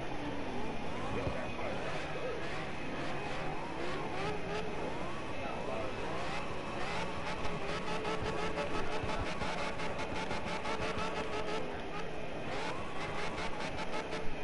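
A Hoonigan Mustang's engine roars in the CarX racing video game, a loud, continuous drone whose pitch climbs and falls as the car revs and shifts, with faint chatter in the background.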